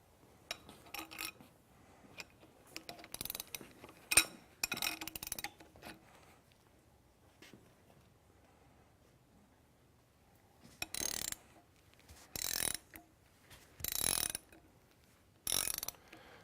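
A spool turned on a threaded rod to pull a restrictor bar into its slot, giving bursts of ratcheting, grinding mechanical clicks separated by pauses, close and fairly quiet with no talk.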